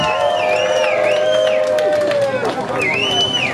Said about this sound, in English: Audience, let's give a cheer for our contestants